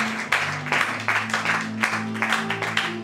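A church congregation claps in acclaim, with a steady run of roughly rhythmic handclaps over sustained organ or keyboard chords, moderately loud and close.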